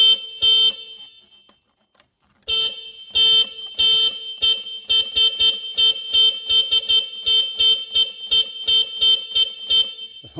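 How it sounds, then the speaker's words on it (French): A repaired machine's horn is sounded in a long blast, then after a pause in a quick run of short, sharp honks in an irregular rhythm, loud and close, with nobody talking. "Voilà, klaxon et klaxon,"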